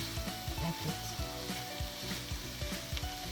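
Minced meat for lasagna sizzles and fries steadily in a pan while being broken up and crumbled, with repeated scraping and stirring knocks over a constant close, loud sizzle.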